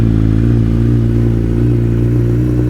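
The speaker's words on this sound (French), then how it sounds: "je vais vous allumer la moto juste pour que vous écoutiez ce son démoniaque" Suzuki Hayabusa motorcycle running without its exhaust baffle, a loud, deep, steady idle rumble with strong low harmonics, close to the microphone and alone.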